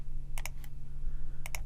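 Computer mouse clicks while working in software, heard as a few sharp, close clicks: a quick pair, a single, then another quick pair, all over a steady low electrical hum.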